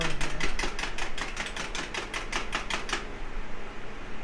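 Egg wash for malt shop burgers being whisked, a quick run of sharp regular clicks and taps against a bowl that stops after about three seconds, leaving quiet background.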